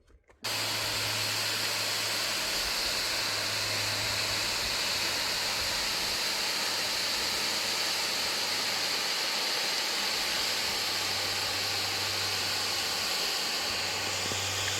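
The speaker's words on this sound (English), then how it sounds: "So we did all 10 waterfalls." Rushing water from a waterfall along a nature hike trail, a steady broadband roar that sets in abruptly and holds loud and unbroken throughout, with no talk.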